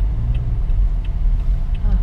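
A car near Jomtien Beach rolls off after being put into gear, a low, steady engine rumble close by with people talking over it.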